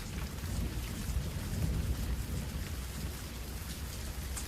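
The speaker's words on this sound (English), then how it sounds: "It begins to rain." Steady rain falls as a storm effect behind a narrated audiobook retelling of The Tempest: a dense, even hiss of drops with a low rumble underneath, continuous and fairly loud throughout, with no voices.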